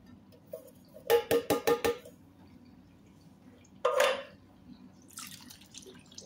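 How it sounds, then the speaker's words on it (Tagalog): Syrup drips and splashes as canned fruit cocktail is drained, a quick run of five or six drops followed by one separate splash, close and fairly quiet. "i-drain na natin ang ating fruit cocktail"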